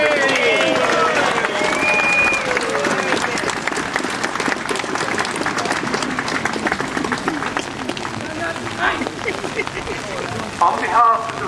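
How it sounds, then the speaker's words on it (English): A large crowd at a St George's Day event applauds a jazz band steadily, a dense continuous clapping that slowly tapers, with a voice briefly audible at the start. "can I have a round of applause for the jazz band?"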